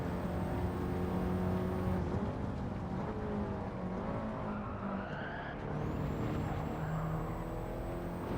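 A race car in a racing video game licence test drives hard, its engine droning steadily at high revs with tire skids and shifts in pitch throughout, loud and continuous with no voices.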